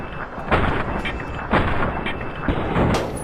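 Gunfire in Fallout: New Vegas with the Viva New Vegas mod: three heavy, booming shots about a second apart, loud and close, each leaving a short rumbling tail.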